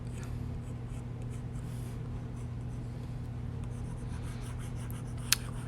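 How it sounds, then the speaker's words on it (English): A pen scratches continuously across a drawing surface, soft and close, over a steady low hum, with one sharp click near the end. "I am not drawing very well tonight"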